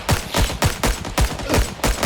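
Suppressing machine gun fire in Rising Storm 2 Vietnam rattles out in a quick, steady string of about eight close, loud shots with no pause between them.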